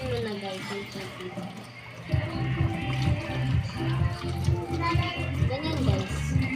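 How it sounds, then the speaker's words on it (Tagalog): A kitchen faucet runs during dishwashing as a steady wash of water, partly buried under voices and a rhythmic tonal pattern. "Ay, bubuksan niya ang gripo."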